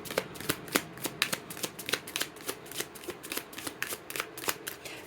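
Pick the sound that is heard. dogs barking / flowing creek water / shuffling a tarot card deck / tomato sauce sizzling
shuffling a tarot card deck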